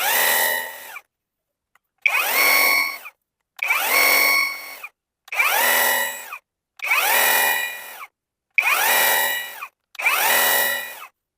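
Vitals Master AM 1860n3 cordless pressure washer on its strongest mode, sprayed in seven loud, even bursts of about a second each with brief silent gaps between them, close by.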